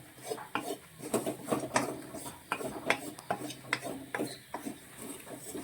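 Chillies, fennel seeds and black pepper are dry-roasted in a pan, a spatula scraping and clinking against the metal in an uneven rhythm of close, moderately loud strokes.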